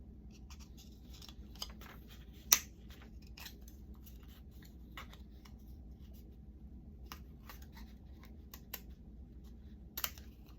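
Scissors snipping the center out of a paper bookplate, sparse quiet cuts spaced several seconds apart with one sharper snip, in a quiet room.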